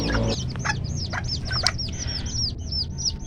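Hens in an outdoor run pen, mother hens newly mixed in with younger birds, cluck and chirp repeatedly in quick, curving calls, close and clear over a low rumbling background.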